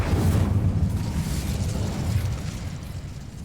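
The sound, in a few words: Incendio spell explosion in the video game Hogwarts Legacy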